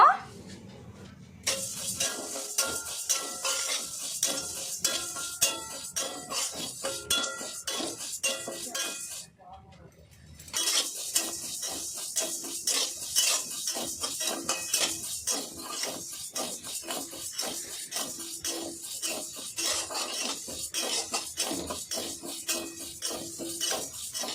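Dry mung dal rattles and scrapes in a dry metal pan, with frequent clinks and stirring sounds, a short pause midway, then steady clattering again.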